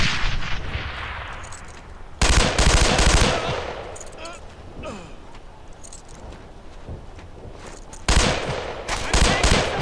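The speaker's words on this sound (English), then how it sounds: "Keep shooting. Keep shooting." Machine gun fire in the World War II shooter game Brothers In Arms: Earned In Blood, with loud rattling bursts at the start and near the end and quieter scattered shots and battle noise in between.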